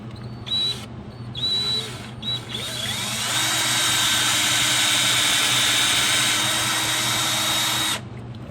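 A power drill on its low setting driving in an ATI super damper crank pin on an LS-style crank pulley, whirring in short starts before a long steady run that cuts off abruptly near the end, close and loud.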